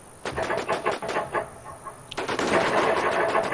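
Sniper rifle shots ring out in The War Z, several sharp cracks in the first half followed by a denser, louder burst of noisy action, with no clear voice over it.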